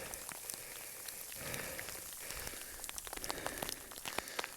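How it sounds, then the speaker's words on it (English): Frozen rain, not quite hail, falls on a camp by a creek along the Arizona Trail behind the Huachuca Mountains. A steady, dense patter is scattered with sharp little ticks of drops striking nearby surfaces. "Got some frozen rain. It's not really hail."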